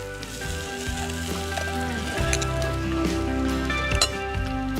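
Half a cup of butter and brown sugar melting and sizzling in a pan over a live fire, a continuous close crackling sizzle with a low steady hum beneath and occasional sharper pops.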